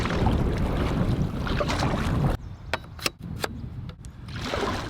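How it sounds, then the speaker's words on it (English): Wind gusting across an open lake in the Boundary Waters during a solo kayak trip, a loud roaring rush buffeting the microphone, dropping briefly mid-clip with a few sharp knocks before the gusts swell again. "We've got a love-hate relationship with the wind."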